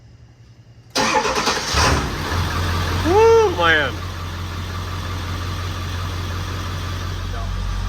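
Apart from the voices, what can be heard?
diesel truck engine starting and idling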